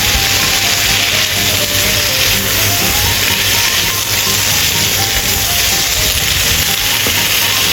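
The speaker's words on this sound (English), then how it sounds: "Add goji berries and stir-fry for another minute." Cabbage and goji berries stir-fry in a hot pan with a loud, continuous sizzle and hiss, close up and unbroken, with no talking.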